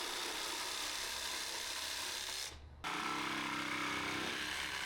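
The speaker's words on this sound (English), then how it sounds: "But I like using the jigsaw." A jigsaw cuts through a piece of scrap wood with a loud, steady buzzing rasp. The saw stops for a moment near the end, then starts cutting again.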